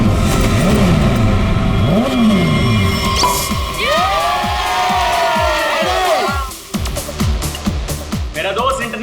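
Motorbikes revving hard at the start of a race, engines rising and falling in repeated sweeps over a loud crowd, with cheering and shouting voices mixed in.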